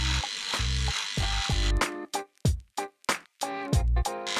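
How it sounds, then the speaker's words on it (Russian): An electric shaver with two speeds buzzes in short loud bursts as it is tried on the neck, starting and stopping repeatedly with brief gaps between runs. "Бритва, кстати, имеет две скорости."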